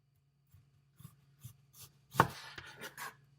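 A knife slices an onion crossways into rings on a board, giving a series of soft, separate cuts about every half second, quiet and close, with a sharper chop near the end.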